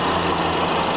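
A 2008 Honda Accord's 2.4 liter DOHC four-cylinder engine idles steadily and loudly, a constant close, even hum with a low rumble throughout.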